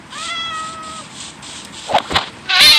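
A cat in the Minecraft video game meows with a drawn-out, wavering call, followed by a couple of short sharp sounds and a louder burst at the end; no one speaks.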